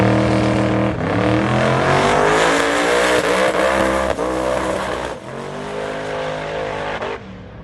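Chevy C10 truck making a full-throttle drag racing pass at the Redwood Rally 2025, its engine roaring loud and close with sustained revving harmonics, a brief dip near the start and a drop-off as the run ends.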